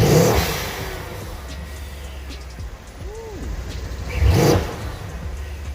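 Steady idle from a Mercedes C63 with a VRP Speed intake, broken by a brief mid-clip whistle and one strong rev near the end, heard up close without any voices.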